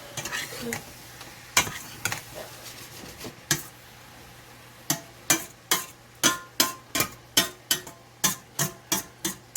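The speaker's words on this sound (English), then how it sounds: "So I'll continue to brown up this meat and finish up these onions" Meat and onions browning in a little butter in a pan, a low sizzle broken by a run of regular sharp spatula taps and scrapes against the pan, close and without speech.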